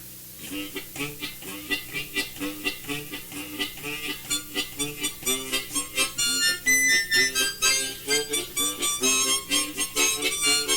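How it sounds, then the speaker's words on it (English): Reedy chords from a Chordet 20 chord harmonica pump out in a quick, bouncing rhythm, growing louder and brighter as the playing goes on, with no voices. "This is a Chordet 20 harmonica."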